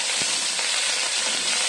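Chopped vegetables sizzle steadily in a hot pan while being stir-fried for Indian-style pasta, a bright, continuous hiss with faint stirring knocks and no talk.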